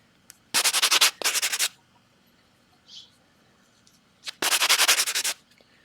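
Belt sander grinds a coin ring in bursts: two close passes, then a pause with a faint tap, then a longer pass. Each pass is a harsh, loud rasp with a fluttering rhythm.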